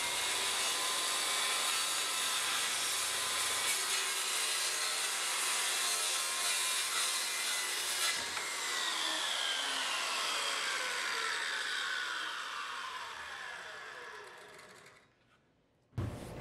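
A circular saw mounted on an EZ Smart saw base cuts through wood in one long, loud, steady pass, then the blade winds down and stops near the end.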